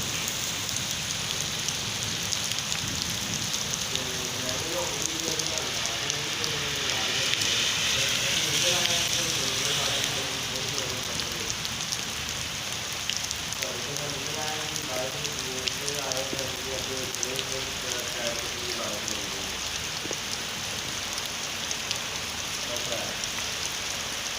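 Heavy rain pours down on a street in Lahore in a steady, dense hiss, with voices talking faintly underneath for much of the time.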